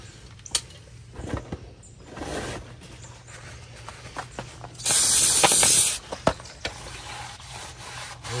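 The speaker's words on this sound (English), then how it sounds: "First, we're going to spray a little lube." A single hissing spray of lubricant from an aerosol can onto a trailer brake adjuster lasts about a second, surrounded by quiet rubbing, scraping and a few small knocks.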